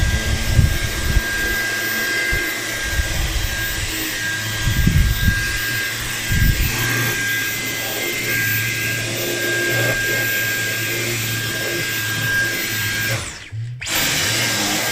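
A Dyson V11 Absolute cordless vacuum cleaner runs on boost mode over a low-pile carpet, a loud steady motor whine held close for the whole stretch, with a brief dip near the end.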